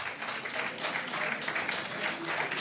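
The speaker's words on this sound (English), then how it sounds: "Please give her another round of applause." Audience applause at a formal International Women's Day celebration event, a steady wash of many hands clapping from a distance, brief and even throughout.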